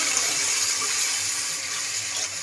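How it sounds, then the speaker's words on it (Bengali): Water poured into a pan of simmering fish curry, a steady broad rushing splash that runs continuously at moderate volume, no voices. "এবার আমি জল দিয়ে দেবো, বেশ কিছুটাই জল দেবো"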